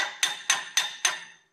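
A screwdriver used as a hammer strikes metal on an old Tri 5 Chevy body four times in an even rhythm, each sharp clank ringing briefly before the next, close and alone.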